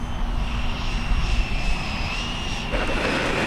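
An E-flite Viper 90mm EDF radio-controlled jet flies past with a steady ducted-fan whine that swells slightly as power is added, a fairly close, continuous whoosh with no talk.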